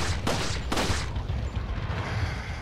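Broken Butterfly magnum fired in Resident Evil 4, with a couple of sharp booming shots over dense, loud game noise, the blasts close together near the start.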